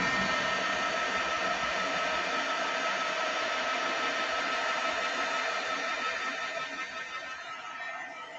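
A heat tool for embossing powder blows with a steady, loud rushing whoosh that holds evenly, then eases slightly toward the end, alone with no talk.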